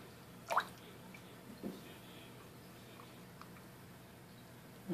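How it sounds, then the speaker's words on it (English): A leaky household faucet drips in a quiet room: two soft, separate drops in the first couple of seconds, then near silence and a faint tap at the end. "Got my leaky faucet over there."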